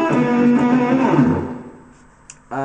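A short guitar phrase from a blues instrumental, with bright ringing bent and sustained notes that decay over about two seconds before a new note is struck near the end, played alone.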